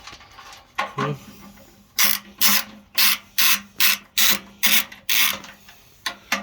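Someone tightens a furnace blower motor mount bolt with a wrench. The ratcheting strokes come close and loud in a steady run of about ten pulses, with a few irregular clicks before them.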